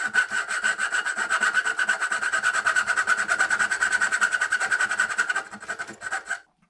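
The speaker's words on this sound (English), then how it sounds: "I'm just going to use a coping saw to cut the dovetail" A coping saw cuts a dovetail in wood on a Shaker side table, a close, loud run of quick rhythmic rasping strokes that slows and stops near the end.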